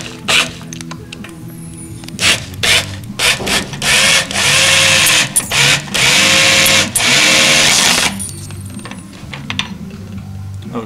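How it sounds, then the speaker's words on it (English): Engine lifters on a T37 build priming as oil pressure comes up, with loud sustained mechanical clattering and whirring in long bursts, broken by brief pauses and sharp clicks, close and with no talking. "you can hear the lifters prime"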